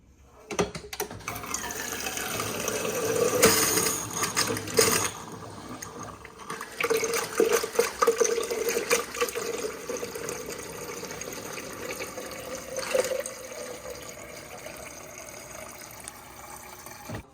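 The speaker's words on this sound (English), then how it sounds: "we need to flush 3 gallons of water through the dispenser" Water rushes and splashes steadily into a container from a Samsung Bespoke French door refrigerator dispenser being flushed after a filter change, close by, with surges and a softer trickle toward the end.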